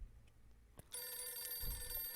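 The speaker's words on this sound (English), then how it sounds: "No, that's a phone ringing." A telephone rings inside the survival video game 60 Seconds, its bright electronic trill starting abruptly after a short click and sustaining steadily and fairly loud with no talking over it.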